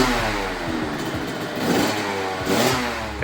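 A large motorcycle engine runs just after starting, a close, rough mid-pitched rumble with uneven clattering pulses and slight rises in revs, heard alone without talk.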